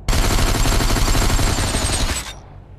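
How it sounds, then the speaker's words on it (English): Rapid automatic gunfire from newly added weapons in the VR battle royale game Population One, a loud continuous burst lasting about two seconds before cutting off abruptly, with no talking. "And this is how they shoot."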